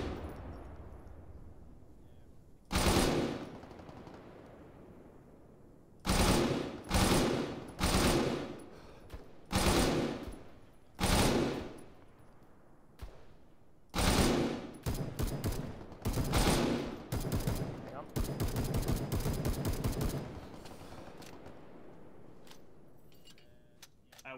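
Full-auto rifle bursts from an RGFAL in the ARMA 3 video game, a dozen loud rapid volleys of varying length spaced across the stretch, with a long sustained burst near the end and no talk over them.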